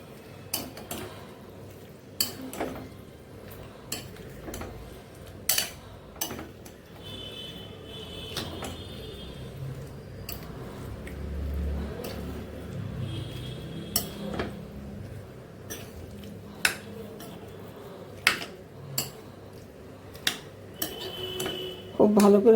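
A spoon stirs boiled soybeans in a pan while soya chakauni, a Nepali dish, is being made. Close, quiet scrapes come with scattered sharp clinks and taps against the pan.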